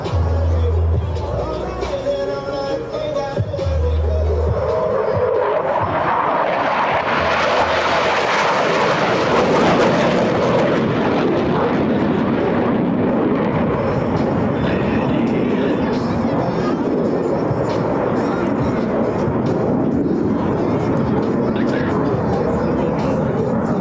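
US Navy Blue Angels jets pass over show center at the NAS Patuxent River air show, building into a loud, long roaring sweep that fades into a rumble, under a public-address announcer talking.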